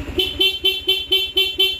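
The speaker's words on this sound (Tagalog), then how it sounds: "So subukan natin, mag-stock horn muna tayo, busina tayo." A stock car horn beeps in a quick, even series of about seven short honks, loud and close, with the engine running underneath.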